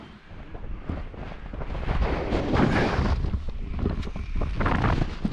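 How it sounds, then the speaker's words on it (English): Strong gale-force gusts buffet a hilltop during wild camping in Scotland, building into a loud, rushing roar with heavy microphone buffeting and thumps, and no one speaking. "So windy"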